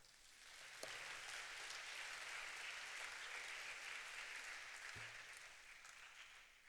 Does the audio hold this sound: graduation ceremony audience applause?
yes